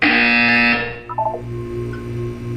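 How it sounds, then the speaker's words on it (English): A loud, sustained electronic buzzer tone from the video game Portal 2 lasts nearly a second, then cuts off, leaving a low steady hum with a brief faint blip. "You will hear a buzzer."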